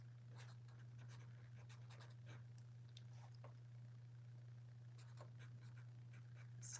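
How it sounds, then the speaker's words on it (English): A pen writing down notes, faint scratchy strokes in short clusters over a steady low electrical hum. "I'm going to write down your questions"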